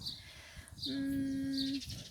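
Bird calls outdoors on a sunny day beside a garden of kale flowers: a sustained clear whistled note rings out near the middle, with faint high chirps before and after over soft background noise.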